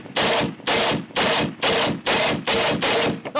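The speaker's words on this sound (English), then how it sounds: "All right, mag dump." Rapid magazine dump from a gun fitted with a weapon light: seven loud, sharp bursts of fire in a steady rhythm, close and dominant, with no talking over them.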